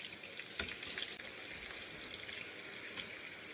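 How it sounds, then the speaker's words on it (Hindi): Kofta balls fry in hot oil in a home kitchen, a steady, faint hiss and crackle with a couple of brighter pops, heard close and alone. "जो बाकी हैं उनको भी मैं ऐसे ही फ्राई करती हूँ"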